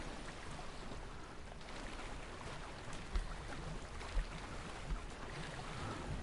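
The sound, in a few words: bubbling underwater sounds in a video game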